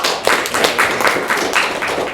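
Classroom applause from students, a steady run of quick overlapping claps held at an even level for a couple of seconds, close and fairly loud with no talking.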